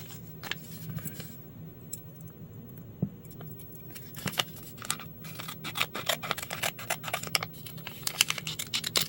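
Scissors snip repeatedly through old tea bags in irregular bursts, close and crisp, with small clicks and handling noises between cuts over a low steady hum.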